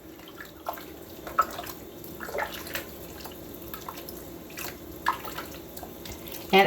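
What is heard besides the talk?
chicken cooking water poured into a soup pot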